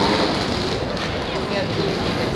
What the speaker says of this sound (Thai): แต่ก็ลมแรงมาก